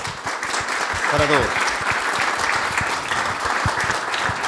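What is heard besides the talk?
welcome applause at seminar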